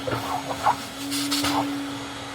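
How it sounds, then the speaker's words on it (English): A vacuum cleaner sucks up shavings left from making a flower vase: a steady droning hum with a broad rushing hiss that swells after the first second, with no talking. "Start the vacuum. Get all those pesky shavings out."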